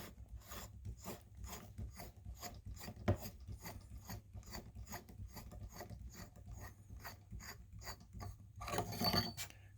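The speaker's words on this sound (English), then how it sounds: "Here you have the inner shaft, this beautiful brass that also just screws right off." Brass inner shaft of a lightsaber hilt being unscrewed, giving a steady run of small, close ratcheting clicks and metallic thread scrapes, evenly spaced and fairly quiet, with a slightly louder rasping burst near the end.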